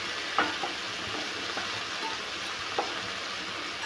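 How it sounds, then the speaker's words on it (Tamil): Urad dal sautéed and stirred in a pan, giving a constant soft sizzle with occasional light scraping taps from the stirring, and no voices. "உளுந்து வதங்கியாச்சு."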